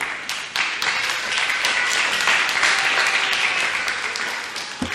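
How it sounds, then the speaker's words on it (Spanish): A church audience applauds during a Spanish-language sermon, a dense, steady wash of many hands clapping at once that swells quickly and holds loud for several seconds before thinning slightly at the end. "Denle un aplauso al Rey de Reyes"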